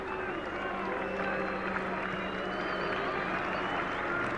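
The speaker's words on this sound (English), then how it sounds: "Boos echoing from the crowd." Large cricket crowd at the 1981 Ashes fourth Test booing and jeering after a wicket, a dense, sustained roar of many voices with some clapping mixed in, steady throughout.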